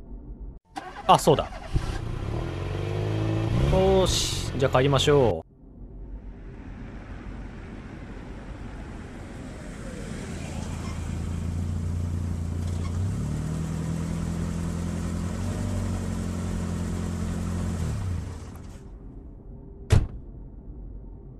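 A car in the horror game Meat Grinder: a door thuds and the engine cranks and catches, then settles into a steady mid-pitched hum as it drives, rising and shifting at times, with someone speaking near the start.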